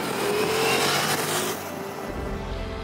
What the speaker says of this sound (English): it's amazing to think this engine is derived from the snarling Panigale V4 superbike